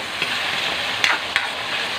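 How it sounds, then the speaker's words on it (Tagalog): Tomatoes sautéing in a pan for a mung bean dish with dried shrimp, a steady close sizzle with two or three sharp spatula scrapes and clacks, no voices. "Igisa lang muna natin ang kamatis."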